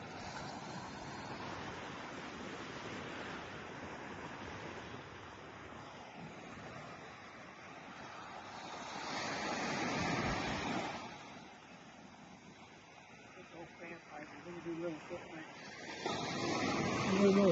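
Ocean surf rolls in on a South Florida beach at Hobe Sound, with waves breaking and washing up in slow surges over a constant hiss of wind.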